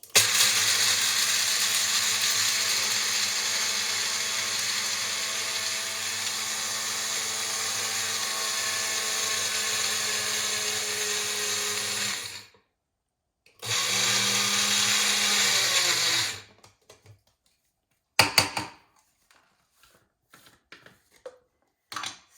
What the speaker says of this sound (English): So I'm going to make a fine powder of this and then put it in the soup bowl